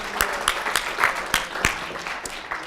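An audience at a lecture on music and religion applauds, a fairly soft, even patter of clapping with a few sharper claps, heard from a moderate distance.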